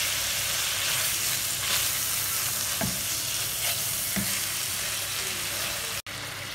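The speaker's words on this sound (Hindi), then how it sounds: "ये देखें, ये इसमें जो है उबाल आना शुरू हो गया है।" Haleem with chicken and turmeric in a pot coming up to a boil, a dense steady bubbling hiss with a few faint knocks, continuous and close throughout.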